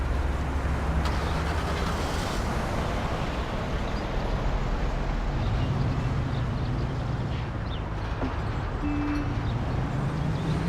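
Car engine driving in the Mafia game, a steady broadband engine and road rumble that holds loud and constant throughout, with low drone shifting slightly as it drives.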